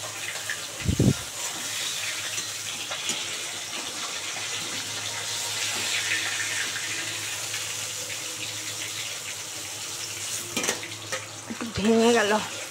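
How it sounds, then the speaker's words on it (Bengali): Heavy rain keeps up a constant wash of hiss in the background while a person speaks, with a couple of sharp knocks and clatters breaking through. "এত বৃষ্টি হচ্ছে না,"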